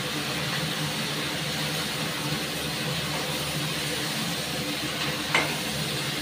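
Coffee beans being dry-roasted in a pan for a home cooking session, a steady loud hiss and sizzle running unbroken throughout, with no talk.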